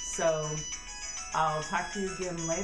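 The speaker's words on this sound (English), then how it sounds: "that is my phone telling me I need to go to work" A phone alarm plays a looping melodic ringtone at close range, its bright tones running steadily beneath a person talking.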